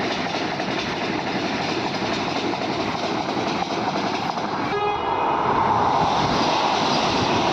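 A fast Vande Bharat express train runs with a steady, heavy rumble and rushing noise, the sound swelling slightly louder toward the end.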